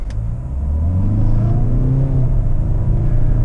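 A Hyundai Palisade launches at full throttle from a standstill, its engine building into a rising, loud rumbling drone heard from inside the cabin with no talking.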